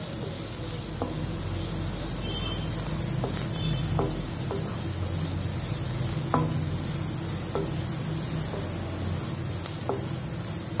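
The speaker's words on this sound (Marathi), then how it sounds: "कांदा अशा प्रकारे चांगला परतून शिजवायचा आहे" Onion sautéing in a pan, a steady frying sizzle throughout with intermittent scrapes and taps of a spoon stirring, close and moderately loud, no voices.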